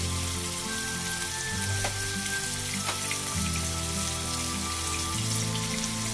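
Ginger garlic paste with green chili frying in a pan, giving a steady, dense sizzle up close with a few soft pops, under a droning low hum.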